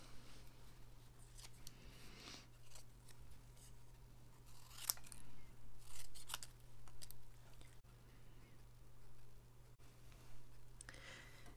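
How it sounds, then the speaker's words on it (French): Small scissors snip out card pieces for a handmade card, giving quiet, close cuts in irregular bursts with short pauses between them, and no voices. "Et après on découpe."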